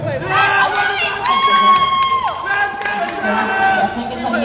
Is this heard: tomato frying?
no